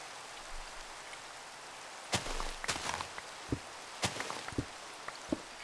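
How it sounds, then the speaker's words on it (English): Video game rain: a soft steady hiss with scattered sharper taps and thumps, like drops or footsteps, and no talking. "Oh, it's raining."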